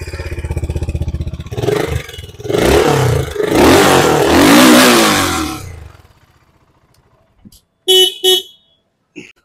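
A BSA Gold Star 650 motorcycle engine revs hard several times close by, roaring up and down in loud bursts, then settles to a low idle with a couple of sharp blips at the end.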